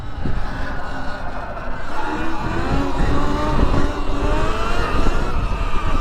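A Surron X electric dirt bike, a 2023 model, rides hard and pulls a wheelie, giving a loud, continuous whine and rush of tires and wind that shifts in pitch as it speeds up.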